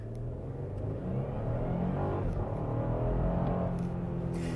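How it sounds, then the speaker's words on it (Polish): Toyota Land Cruiser J300 with a twin-turbo V6 accelerating to 70 km/h, heard from inside the cabin as a rising engine drone with a gear change partway through, a steady road rumble beneath and no talk. "Samochód naprawdę nieźle zebrał się do tych 70 na godzinę."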